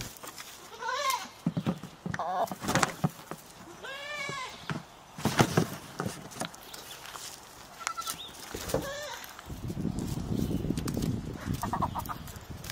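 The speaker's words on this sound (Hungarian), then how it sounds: "A kecske és a csirke balhéja mind kaphattak össze vajon ennyire?" A goat bleats repeatedly in wavering cries, close and loud, while chickens cluck and squawk around it in a noisy farmyard scuffle.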